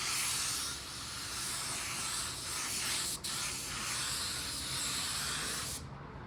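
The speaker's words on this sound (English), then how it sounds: "it's really putting out some paint. And there's very little overspray." A $109 paint spray gun lays down a coat of car paint with a loud, continuous broad hiss that runs almost unbroken for several seconds, then cuts off abruptly at the end.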